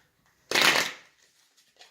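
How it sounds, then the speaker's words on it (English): One quick, crisp riffle of tarot cards being shuffled close up, a brief burst of papery flutter that quickly dies away. "I'm just going to do a couple quick shuffles."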